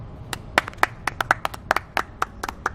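Sparse, irregular hand clapping from a small group, each crisp clap standing apart from the next, close and fairly loud with no talking over it.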